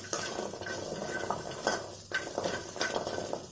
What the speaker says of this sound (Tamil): வெங்காயம் இஞ்சி பூண்டு எல்லாத்தையும் பச்சை வாசனை போகிற அளவுக்கு வதக்கிப்போம்